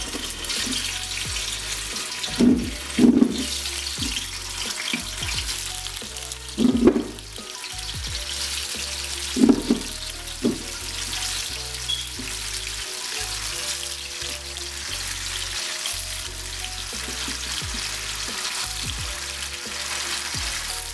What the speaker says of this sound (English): once we drop the tofu in, it automatically starts frying